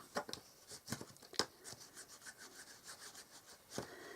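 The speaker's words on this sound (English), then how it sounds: "So I'm just going to burnish that." Paper card trim being burnished, heard as soft, close rubbing strokes in an uneven rhythm, a few sharper scrapes standing out among quieter brushing passes.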